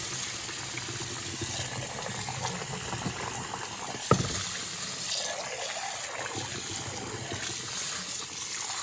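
Water draining from soaked rice for Mexican rice, a steady continuous trickling and pouring flow with a single brief knock midway, close and fairly loud throughout.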